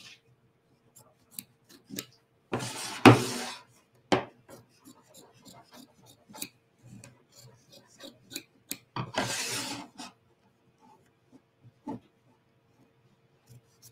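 Scissors trim oversized quilt batting for a pillow, with many crisp snips scattered throughout and two longer rustling cuts of the thick batting, heard close and without talk.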